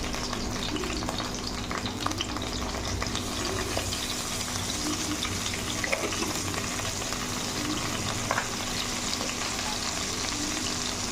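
Pointed gourd (potol) fries in oil in a pan with a bay leaf, turmeric and salt, giving a steady, close sizzle with light stirring scrapes throughout and no voices.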